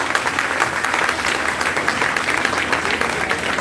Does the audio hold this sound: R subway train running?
no